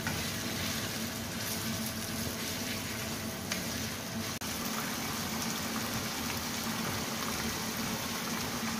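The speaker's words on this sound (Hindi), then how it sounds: "तो वो जिंजर गार्लिक के अंदर ही जो है वो" Chicken frying in oil with ginger garlic paste in a pan gives a steady, dense sizzle that holds unbroken and close throughout, with no talk over it.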